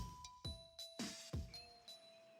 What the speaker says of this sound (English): Oh, I know, but the bell just rang